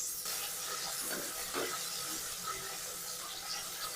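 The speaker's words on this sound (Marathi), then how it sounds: "आता हे छान मसाले परतले आहेत." Steady broadband sizzle of spices frying in a pan with chopped onion, potato, tomato and garlic-ginger paste for wheat khichdi, a continuous close hiss with faint crackles and no talking.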